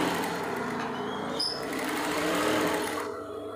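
A sewing machine stitching blouse fabric runs steadily and close by, a continuous even whir that holds for several seconds and then eases slightly.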